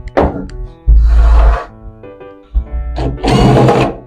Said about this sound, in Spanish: Quitamos los tornillos de abajo